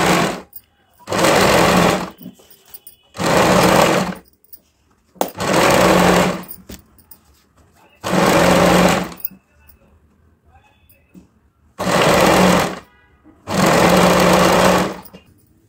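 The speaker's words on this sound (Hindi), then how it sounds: "तो हमें पूरा सिलाई लगा लेना है" A sewing machine stitches a trouser waistband belt in repeated bursts of steady rapid whirring, each a second or two long, separated by short pauses, loud and close.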